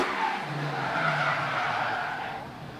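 A drift car engine roars under hard acceleration with screeching, skidding tires during qualifying at Baypark Stadium, loud and sustained, then fading slightly.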